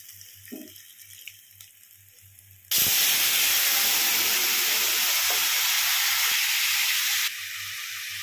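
Spices hit a hot pan with a splash of water and burst into a loud, steady sizzling hiss that lasts several seconds, fading slightly at the end, after a quiet start.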